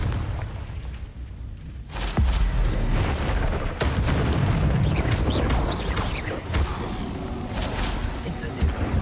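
Confringo spell explosions in Hogwarts Legacy, loud booming blasts and crackling bursts in quick succession, mixed with other spell effects and a voice calling out spells.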